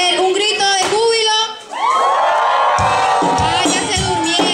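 An audience lets out a loud, joyful group shout, a dense burst of many whooping, cheering voices that briefly dips and then swells again into sustained yelling.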